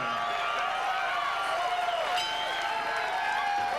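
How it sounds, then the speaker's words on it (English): Boxing arena crowd at the final round of a Shane Cameron versus James Walton bout, a steady dense roar of cheering and applause with whoops rising throughout, loud and continuous. "A round of applause, please, for James Walton and Shane Cameron."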